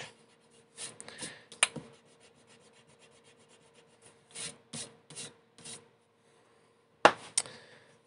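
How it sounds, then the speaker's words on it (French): An eraser scrubs on paper in short, close bursts of scratchy rubbing, separated by pauses and ending with a couple of sharper strokes. "Je vais gommer, du coup, ça ne sert à rien."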